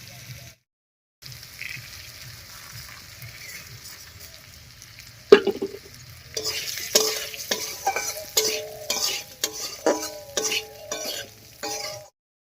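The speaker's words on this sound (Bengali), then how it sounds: "আলুর সঙ্গে মুগ ডালটাও একটু ভাজা ভাজা করে নেবো" Mung dal frying with potatoes in a pan, starting with a quiet low sizzle, then a sharp clink followed by repeated scraping stirs and bursts of louder crackling toward the end.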